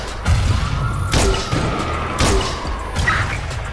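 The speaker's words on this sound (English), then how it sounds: "And again, explosions like that," Explosions in action game footage from a GTA 6 trailer during a police chase, two sharp loud blasts about a second apart with lingering rumble, followed by smaller thuds.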